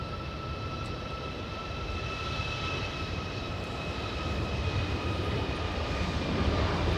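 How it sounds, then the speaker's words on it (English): A Southwest Boeing 737 roars at Los Angeles International Airport, a steady broadband jet engine rumble with whining tones, continuous and fairly loud, slowly building toward the end. "There goes the Southwest 737."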